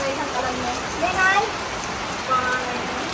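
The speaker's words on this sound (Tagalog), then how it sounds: "Lakas ng ulan guys. Biglang buhos." Heavy rain pours down steadily in a dense hiss, with faint bird or voice sounds briefly rising above the downpour.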